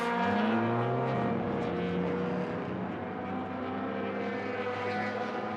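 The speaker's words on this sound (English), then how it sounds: "I can hear that car. There you go. It's off." A loud, steady engine drone of a touring car accelerating away from a pit stop during a 300 km championship race, its pitch sliding as it pulls off, with no talking.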